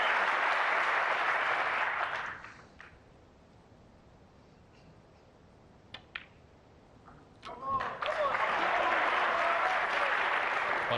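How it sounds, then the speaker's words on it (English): Snooker crowd applauding a potted ball at the Saudi Arabia Snooker Masters final, loud clapping that fades to a hush with a few faint sounds, then a fresh burst of applause swelling back. "every ball is being cheered in by this crowd"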